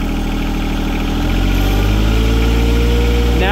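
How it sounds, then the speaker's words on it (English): A tractor engine idles, then revs up and holds at a higher, steady pitch, loud and close throughout with no talk over it. "go ahead and rev it up a little more"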